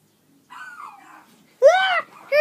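Dogs bark close by: a drawn-out whining bark, then a loud, sharp bark, and the start of another at the very end.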